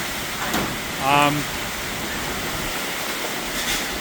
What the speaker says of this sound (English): the rain has eased up a little bit. It's still pretty heavy.